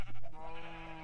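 Sheep in the Minecraft video game give a single drawn-out bleat, close and steady, with no talking.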